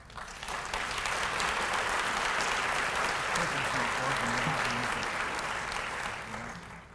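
An audience at the 2015 State of the Region Address gives county staff a sustained round of applause, dense and continuous, swelling in quickly and fading near the end, with faint voices underneath.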